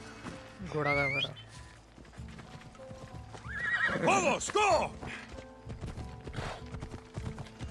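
A horse in Assassin's Creed Odyssey whinnies twice, a short neigh early on and a longer, louder one midway, with clip-clopping hooves and game ambience around it and someone talking at times.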